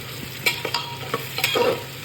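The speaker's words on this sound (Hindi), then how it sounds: "प्याज को हल्का सा गोल्डन ब्राउन करना है।" Sliced onions sizzle and fry in a pan for Sindhi-style lauki kofta curry, with a steady frying hiss and several scraping stirs of a spoon against the pan, close and clear, no talking.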